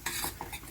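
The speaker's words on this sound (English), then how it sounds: "I'm using my fork to mix it" A fork whisks eggs in a bowl for huevos con chorizo, a quick run of light rhythmic clinks and scrapes, close and soft, with no talking.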